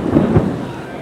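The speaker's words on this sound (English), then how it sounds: "we're currently in the middle of a thunderstorm right now" Thunder rumbles through a brief low swell during a thunderstorm at a theme park water ride, with rain noise hissing beneath it.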